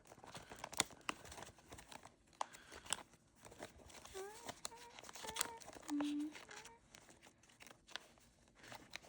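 Crinkly handling and peeling of journal stickers, with soft papery crackles and light taps scattered through the clip while someone talks over them at close range.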